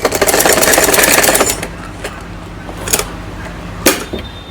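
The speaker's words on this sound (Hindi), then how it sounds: "आस्तीन को इस साइड से सिलाई लगा के मोड़ लेंगे।" A sewing machine runs in a fast, even whirring burst while stitching a folded sleeve hem for a child's night suit, then stops, leaving faint clicks and fabric handling.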